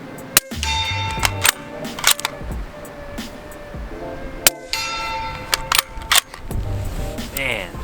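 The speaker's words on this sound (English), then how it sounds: "Can even hit the hostage swinger from back here at 50 yards." Sharp metallic clangs of .300 Blackout bolt-action rifle rounds striking a steel hostage swinger target at 50 yards, several distinct impacts with ringing tails spread across a few seconds, loud over outdoor background noise.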